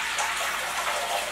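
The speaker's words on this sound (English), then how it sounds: "I need 1 cup of beans and 4 cups of water. And I'm gonna just gonna be pouring in here." Water poured steadily from a measuring cup onto dry beans in a cooking pot, a continuous close rushing splash with no pauses.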